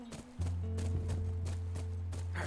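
A small horse's hooves clip-clop steadily in the video game The Last of Us, about five even beats over a constant low droning hum.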